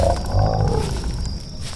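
A growling, roaring animal sound effect in a Roblox horror story, a continuous rough snarl lasting under two seconds, fairly loud and close, with no voices over it.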